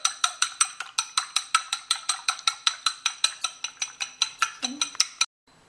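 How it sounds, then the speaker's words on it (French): A whisk or fork beats an egg in a bowl for fried rice, sounding as a quick, regular series of bright clinks, about four per second, that stops abruptly. "maintenant, on commence à battre les œufs"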